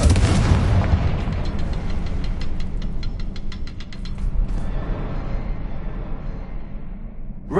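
A Confringo blasting curse erupts in Hogwarts Legacy with a loud, broad burst at the start. A dense rumble and rattling mechanical debris follow and linger for several seconds.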